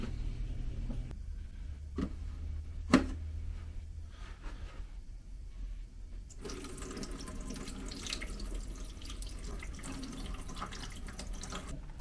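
Water is poured through the fill port of an Aerogarden indoor herb garden. After a few faint drips and taps, a steady, close splashing stream flows for the last several seconds.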